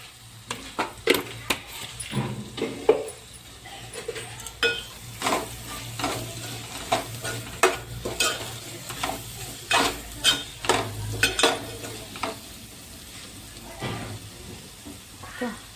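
Fish curry with chili and salt frying in a pan, continuous sizzle broken by repeated sharp scraping stirs and light clinks of a spoon against the pot, with faint talk in the background.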